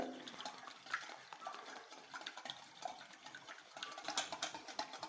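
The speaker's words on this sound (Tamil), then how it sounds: "அந்த விஸ்க் வச்சு நல்லா அடிச்சுக்குவோம்" A whisk beats eggs mixed with chopped onion and green chili in a bowl, giving a faint, quick, steady run of light scraping and tapping strokes with no voices over it.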